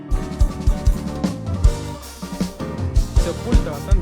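A Kurzweil piano left with flat EQ sits inside a full band mix, its chords blended under drums and bass with steady rhythmic hits, fairly loud but partly buried among the other instruments.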